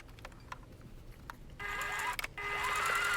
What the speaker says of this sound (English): where I am sewing with the red fabric